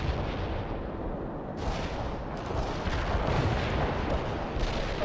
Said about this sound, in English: A barrage hit the target.